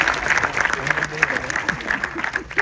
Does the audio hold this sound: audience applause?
yes